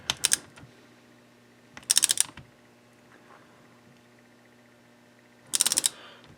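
A torque wrench ratchets on the top end of a Kawasaki KX 125 engine build, producing three short bursts of rapid, close mechanical clicking separated by quiet pauses.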